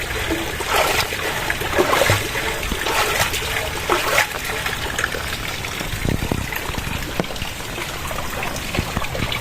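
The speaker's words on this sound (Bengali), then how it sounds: "শব্দ হইতাছে নিচে পানি পড়ার।" Water trickles and splashes down below outside a home on a rainy day, where the low ground has flooded; a steady, fairly close, noisy wash of dribbling and spattering runs throughout.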